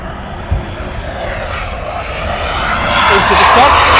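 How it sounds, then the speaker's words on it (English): Eurofighter Typhoon jet engines start up at RAF Coningsby in a loud, broad roar that slowly rises and sharpens into a high whine. People talk faintly under the engine noise. "And more Typhoons have started up."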